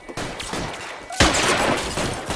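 Gunshots in the video game L.A. Noire crack out in a quick flurry, a sharp loud burst followed by a dense run of shots during a police shootout.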